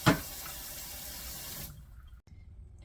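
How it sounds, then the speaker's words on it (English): Tap water runs hard into a sink while canning jars are rinsed, a loud close rushing hiss that cuts off partway through, leaving near silence with a brief knock. "When I rinse my jars, I set them upside down simply so water doesn't pool in the lid."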